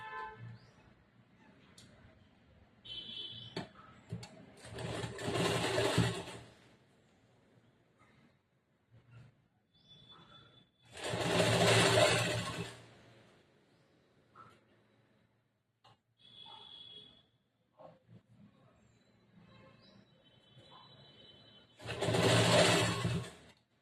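A sewing machine stitches a plain blouse joined to lining cloth in three separate loud bursts of rapid whirring, with quiet fabric handling and small clicks in the pauses between.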